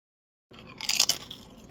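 Ruffles Spicy All Dressed ridged potato chips crunched in the mouth, a close, crisp burst of crackling bites after a moment of silence, fading to softer chewing.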